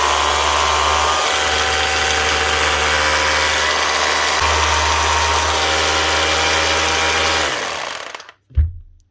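A restored Makita HR2450 SDS rotary hammer drill runs steadily for about eight seconds, a loud close motor hum with a strong low drone, then winds down and stops, followed by a brief clunk.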